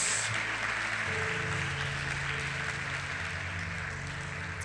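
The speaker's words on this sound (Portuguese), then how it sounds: "Uma forte salva de palmas a Jesus." A church congregation gives Jesus a strong round of applause during a service. Steady, fairly distant clapping runs throughout, with a sustained musical tone underneath.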